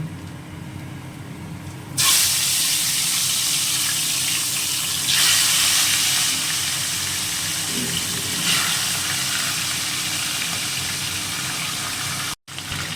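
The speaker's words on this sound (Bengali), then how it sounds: "কড়াতে সর্ষের তেল দিয়ে দিয়েছি এবারে মাছগুলো ভেজে নেব" Fish fry in hot mustard oil in a wok, giving a loud, steady, close sizzle that flares up at the start and holds for the rest of the clip with no talk.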